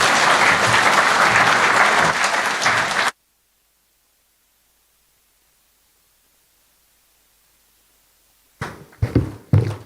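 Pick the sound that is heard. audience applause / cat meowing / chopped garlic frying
audience applause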